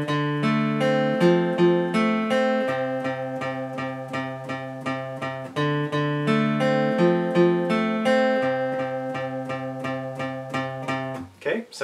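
An acoustic guitar plays the opening phrase of a song twice, a clear, close run of plucked melodic notes over steady picked chords, ending with a short strum.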